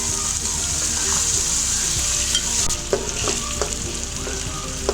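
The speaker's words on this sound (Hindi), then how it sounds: "मैं इसमें चिकन शामिल कर देती हूँ और इसको फ्राई कर लेती हूँ।" Chicken sizzles steadily as it fries in a hot pan, with a few clicks and scrapes of stirring toward the end.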